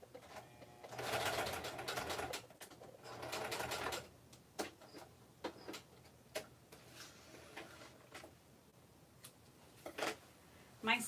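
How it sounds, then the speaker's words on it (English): A sewing machine stitching lace onto a project with a zigzag stitch. It runs in two loud bursts, then gives scattered single ticks and short clatters, close and alone. "I'm going to stitch this on real quick"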